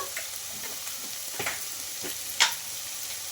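Spinach frying in a pan as it is stirred, a steady close sizzle with scraping spatula strokes and one sharper clatter near the end, no voices.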